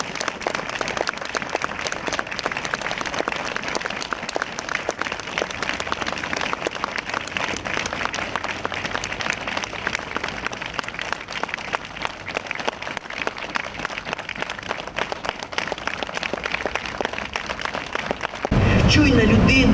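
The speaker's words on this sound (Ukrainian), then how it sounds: "Це останні прощальні аплодисменти, котрі звучали на честь народної артистки України Лариси Власенко" Sustained, dense applause from a crowd bidding farewell to actress Larysa Vlasenko, loud and steady for about twenty seconds with a sharp rise in intensity near the end.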